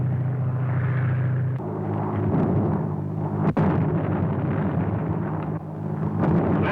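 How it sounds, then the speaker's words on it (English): Tear gas bombs bursting around a group in a 1935 film serial, heard as a loud, continuous rumbling barrage with a sharp blast partway through and heavy low booms throughout. "Landing tear gas bombs all around them"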